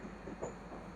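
The Runicha Superfast Express departs Phulera station and rolls slowly, a faint low rumble with soft hiss heard from close by for about a second, with no voices over it.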